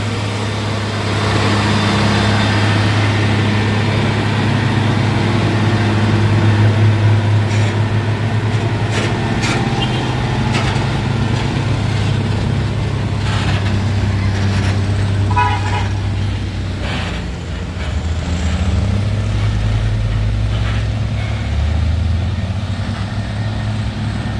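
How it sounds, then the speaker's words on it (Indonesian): A Hino Ranger truck labors up a steep hill climb with a deep, loud, sustained engine drone and a roadside din of other traffic. "Hino Ranger yang di bawah, asap pun putih"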